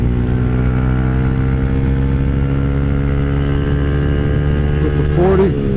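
A Honda Grom motorcycle engine drones steadily and loudly at high revs on the road, holding a constant pitch in third gear near redline, with a slight shift in tone just before the end.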